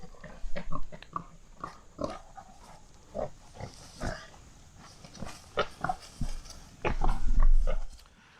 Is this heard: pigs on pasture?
yes